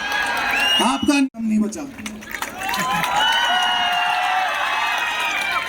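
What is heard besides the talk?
audience applause and cheering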